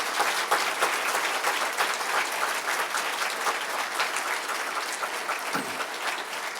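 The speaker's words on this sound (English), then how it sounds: "give them a warm round of applause" An audience at a university flagship launch event gives warm applause, dense continuous clapping that stays steady and full for the whole stretch, with no speech over it.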